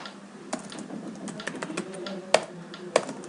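Steady typing on a computer keyboard as router and switch configuration commands are entered, with close clicking keystrokes and a couple of louder key hits, no talking.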